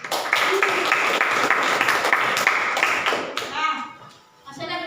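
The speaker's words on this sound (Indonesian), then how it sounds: "kita kasih aplaus untuk kelompok 2" A classroom group claps for a presenting team, dense overlapping hand claps lasting several seconds before fading out, with brief voices and room noise at the end.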